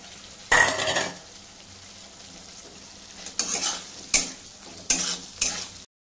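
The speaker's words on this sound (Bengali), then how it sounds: "এখন আমি আলুটাকে ছেড়ে দেবো" Potatoes tossed into hot oil with fried spice masala for a banana-flower dish, giving a steady low sizzle broken by several sharp bursts of frying and scraping stirs, close and fairly loud, with no talking.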